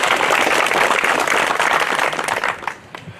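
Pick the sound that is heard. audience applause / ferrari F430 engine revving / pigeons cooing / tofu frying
audience applause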